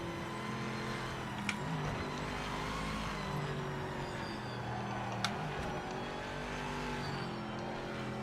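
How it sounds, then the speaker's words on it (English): A race car in the video game Project Motor Racing, with a hypercar-like engine note, holds a steady, loud engine drone throughout, with subtle shifts in pitch and a couple of brief sharp clicks. "The sound of this thing. Almost like a bloody hypercar."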